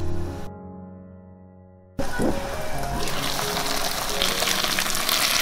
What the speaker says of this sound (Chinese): 再来淋入一点清水焖一会儿， 盖上盖焖到收汁